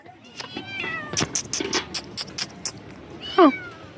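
A cat meows a few times, with a sharp, rising meow near the end, alongside scattered clattering knocks and faint background noise.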